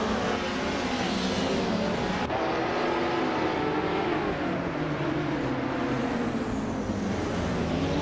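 Race cars launching off the start line in a racing video game, with a classic 1998 Porsche 911 GT2 on pole; a dense, loud mix of revving engines with rising harmonic whine, continuous throughout.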